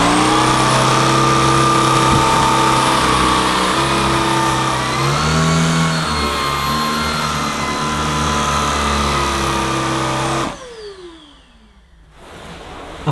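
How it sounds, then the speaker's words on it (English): A Shark Stratos IZ400UKT cordless stick vacuum runs loud and steady as it is pushed forward and back over carpet with dirt, its motor pitch shifting with each stroke before cutting off abruptly near the end. "I'm going to pass the cleaner forward and back through the middle of the dirt"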